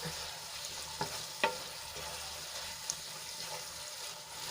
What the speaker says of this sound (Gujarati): આપણે એને થોડી વાર માટે આ રીતે હલાવીને સાંતળી લઈશું જેથી મસાલા સારી રીતે સંતળાઈ જાય